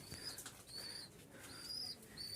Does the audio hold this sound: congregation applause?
no